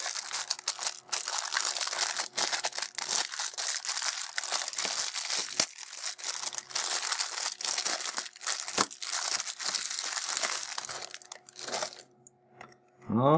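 Plastic packaging around an inexpensive Rubik's cube being unwrapped, giving steady close crinkling and crackling with sharp tearing bursts throughout, easing off near the end.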